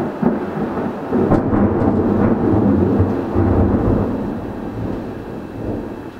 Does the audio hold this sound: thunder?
yes